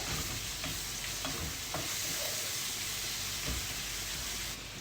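Garlic and ginger paste sautés in hot oil for Kerala-style dum fish biryani, a dense, steady sizzle with occasional stirring knocks, close up and with no talking.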